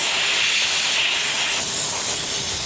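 A steam cleaner hisses continuously and loudly close by while detailing the interior of a 30-year-old barn-find Alfa Romeo 164 Cloverleaf, a steady broadband spray of steam without speech.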